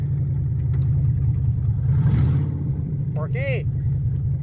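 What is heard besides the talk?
car engine running with bad fuel pump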